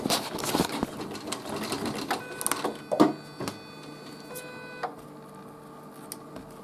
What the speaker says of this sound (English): Got to cut the thread.